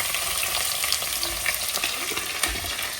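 Onions with curry leaves and fennel seeds fry in oil for a mutton curry, a dense, loud, continuous sizzle with occasional stirring scrapes throughout.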